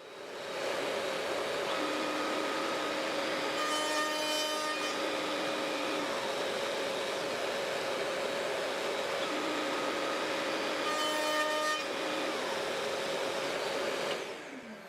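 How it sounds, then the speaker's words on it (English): A router table cuts cross notches into miniature wooden logs, one end and then the other: a steady, loud high-pitched motor whine with a shrill cutting tone running through it in two long passes, dropping away near the end. "I root in one end, then turn the rods,"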